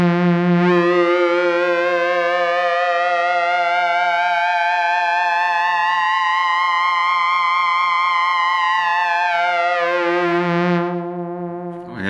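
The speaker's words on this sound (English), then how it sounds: "if I just change the oscillator modifier over to a window sync, it'll give you some idea of how that sounds." Modal Electronics synthesizer oscillator set to window sync, a sustained, loud, buzzy tone with a bright sweeping harmonic shimmer that rises and falls across about twelve seconds, heavily effected with distortion and chorus, heard alone.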